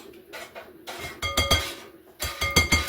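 Whisk or spoon clinking against a pot while cheese sauce with sour cream or yogurt is stirred, close and fairly loud, with bursts of scraping and metallic clinks in uneven rhythm, no talking.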